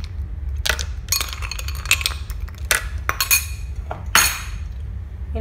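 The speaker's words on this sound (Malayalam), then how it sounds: "കുറച്ച് ഐസ് ക്യൂബ്സ് ഇട്ട് കൊടുക്കുന്നുണ്ട് കേട്ടോ" Ice cubes dropped into a mixed vegetable shake in a blender jar, giving a series of sharp clinks and rattles, some in quick clusters, close and fairly loud over a low hum.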